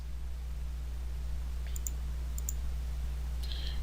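A computer mouse clicks a couple of times, faint and sharp, over a steady low electrical hum while using Primavera scheduling software.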